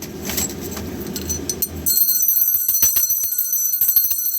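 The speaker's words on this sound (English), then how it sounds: "My little bell, just listening to it." A small meditation bell is struck once after some soft handling noise, then rings on with a clear, sustained metallic shimmer that slowly fades, close and alone.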